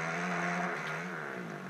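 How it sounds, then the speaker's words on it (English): A four-stroke motorcycle engine in a video game drones steadily at close range, a buzzing, slightly wavering hum with no voices. "That is a 4-stroke motorcycle."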